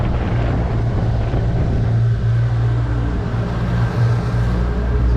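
Twin Yamaha F200 outboards on a Stabicraft 2500 Ultra boat idle and churn as it is put in gear and spun in place, a steady low engine drone with wind and water noise.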